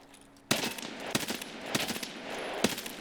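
Automatic gunfire in Escape from Tarkov SPT erupts in several close, sharp bursts after a quiet start, loud cracking shots spaced about half a second apart with a ringing tail between them.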